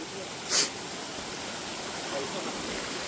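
Heavy rain and running water in the dark at Pavankhind, a steady broadband wash with one brief louder splash near the start.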